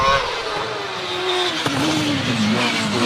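A DJ Firestorm hillclimb race car with a Cosworth XD V8 screams up the Harewood hill at a British Hillclimb Championship round. The engine is loud and close, with a continuous high-revving howl whose pitch shifts as it climbs.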